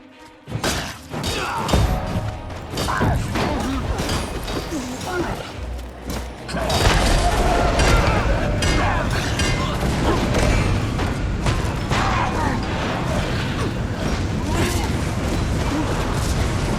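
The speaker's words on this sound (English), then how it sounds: "They've got cannons!" Loud, dense Guild Wars 2 combat: booming cannon blasts and crashing impacts rumble continuously under shouting voices, with a heavier barrage kicking in partway through.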